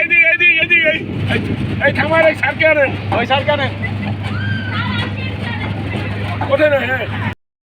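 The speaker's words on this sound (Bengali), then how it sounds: "আমরা এক অসাধারণ ট্রেনে উঠেছি, যেদিক দিয়েই যাই এক জায়গায় ফিরে আসি" Riders aboard a small toy train at a sightseeing spot in Narail district circling a looping track; a steady low engine rumble runs throughout beneath lively crowd chatter and voices.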